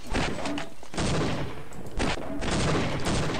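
Rapid gunfire in a Half-Life mod deathmatch map with soldiers, several loud close bursts of automatic shots in quick succession with brief gaps between volleys.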